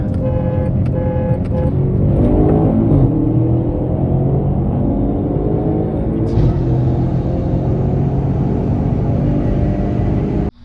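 An Audi races a Toyota Supra, engines droning loudly with rising whine as the cars accelerate together, a sustained close roar that cuts off abruptly at the end.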